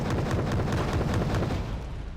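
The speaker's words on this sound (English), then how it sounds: "Artillery being fired." Artillery pounds away in Wargame Red Dragon, a military strategy video game, as a dense, continuous rumble of deep booms that roll into each other without pause.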